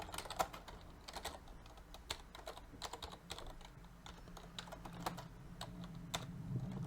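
Quick, fairly quiet clicks of someone typing on a computer keyboard while coding for a Commodore 64, with uneven bursts and short pauses between keystrokes.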